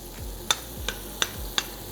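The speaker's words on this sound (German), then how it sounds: "So, das kocht sich schön." A simple noodle dish cooks in a pan with a soft, steady sizzle, broken by four sharp clicks of a utensil stirring against the pan at roughly regular intervals.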